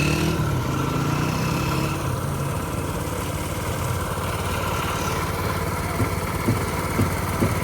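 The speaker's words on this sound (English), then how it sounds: "We've got compressors running outside in the street" Air compressor running in a street in Karachi, a steady rumbling engine-like drone with mechanical pulsing, continuous and fairly loud amid outdoor background noise, no talking.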